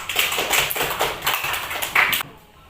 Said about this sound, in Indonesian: kita berikan tepuk tangan untuk Yahya.